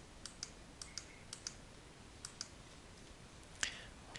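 A computer mouse clicks in a series of quiet, crisp taps at an uneven pace while someone works in cabinet design software, followed by one slightly louder click over a faint background hiss.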